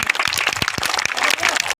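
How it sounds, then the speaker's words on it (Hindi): Audience applause at a village play held in a rural setting, dense clapping that fills the short stretch and stops abruptly. "जोरदार तालियां हो जाए दोस्तों"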